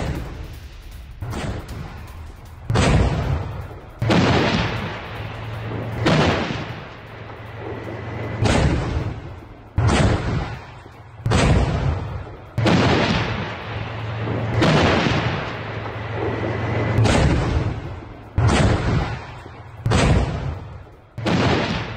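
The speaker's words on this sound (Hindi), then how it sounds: "रूसी T-90 टैंक का जबरदस्त एक्शन। रूसी टैंक ने यूक्रेनी ठिकानों पर किया बड़ा हमला।" A Russian T-90 tank fires repeatedly on Ukrainian positions, about a dozen heavy booming shots spaced every second or two, each a loud close blast with rumbling decay over a low engine drone.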